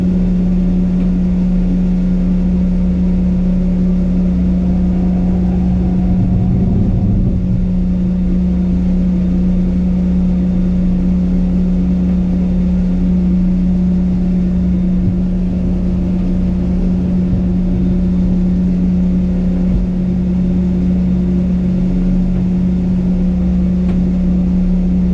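A wooden liveaboard boat's engine runs steadily underway, a loud constant low hum with a strong droning tone and little change in pitch throughout.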